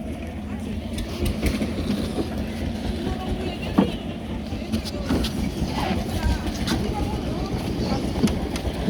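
Boat engine chugging at a river ferry ghat in Rangamati, a steady low rumble with occasional knocks and splashes, people talking nearby over the motor noise.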